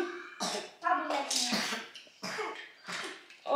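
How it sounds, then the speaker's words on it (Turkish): A child coughs several times in short bursts, close by, with brief pauses between them. "Oy, öksürüyor"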